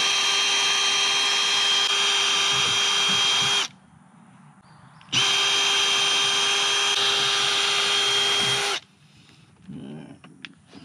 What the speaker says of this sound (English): Get the center drilled out,